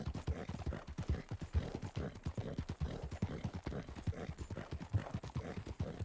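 Steady galloping horse hooves from Red Dead Redemption 2, a rapid rhythmic clip-clop thudding close and continuous for several seconds, with an occasional faint whinny.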